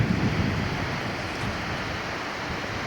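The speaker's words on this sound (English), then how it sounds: "This is a waterfall we did not get a very good view of from the train" A steady, broad rushing roar of a waterfall fills the scene near the Yukon, continuous and fairly loud, without any voices.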